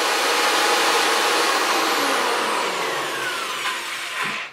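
Electric drill running freely with no load, a steady high-pitched motor whine with a dense hiss that stays even and loud throughout before winding down at the very end.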